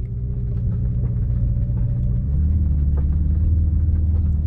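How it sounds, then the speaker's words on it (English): A Ferrari SF90 Spider's twin turbo V8 runs with a steady, loud low rumble that deepens slightly partway through, with no talk over it. "even over the sound of that twin turbo V8 now going"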